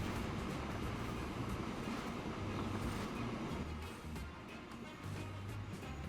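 A train rolls along steadily in the Transport Fever game, giving a continuous low rumble with faint rhythmic clatter. It is quiet and even, with no voices.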